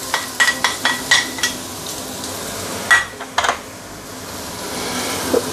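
Fresh ingredients sautéed in onion oil for a Muar Chinese-style assam fish, with a steady background sizzle and a series of sharp stirring and scraping clanks near the pan.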